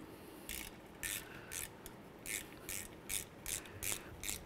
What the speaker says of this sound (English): Nice long ratchet did the trick.